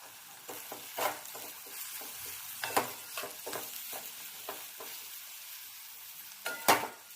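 Boiled, peeled ghevda beans are stirred into masala in a pan as a spatula scrapes in repeated strokes over a soft sizzle, with a few sharper clinks of metal on the pan.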